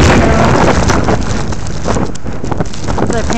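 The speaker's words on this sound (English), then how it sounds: "Lots of wind here." Strong blizzard wind roars steadily across a Chesapeake Beach, Maryland shoreline during heavy snow, a loud broadband rush buffeting the microphone with gusty swells throughout.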